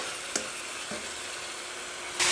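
Salmon skin and meatballs stir-frying in a pan for a Thai holy basil stir-fry give off a steady sizzle, punctuated by two sharp utensil taps and a louder hiss of frying near the end.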